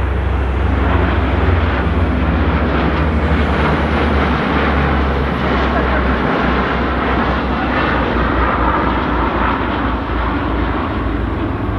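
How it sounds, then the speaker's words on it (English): A Royal New Zealand Air Force Boeing 757, two Hercules transports and a P-3K Orion fly past in formation, giving a loud, sustained roar of heavy aircraft engines that stays steady and thunderous throughout. "the 757 with the two Hercs, those three aircraft from 40 Squadron, and the P3-K Orion from 5 Squadron"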